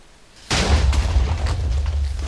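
An explosion in Minecraft blows out a wall: a single loud, deep boom that hits suddenly, then a rumbling roar that lasts about two seconds, with no talk.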